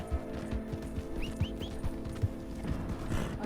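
Horse hooves clip-clopping in Red Dead Redemption 2 Online, a steady trot of soft thuds under a busy game soundscape with a few faint bird chirps.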